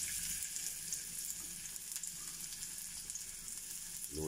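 Ginger hits hot oil in a pan for a crab and pechay dish, giving a soft, steady sizzle that stays fairly quiet and even throughout, with no talking.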